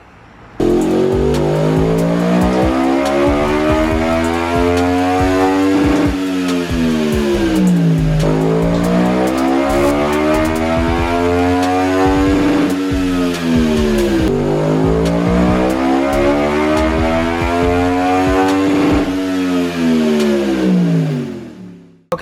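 A 2023 Yamaha MT-10 motorcycle fitted with an M4 exhaust and tune revs hard on a dyno, three long loud sweeps climbing and falling back, each pull rising steadily before dropping off, close and continuous with no talking.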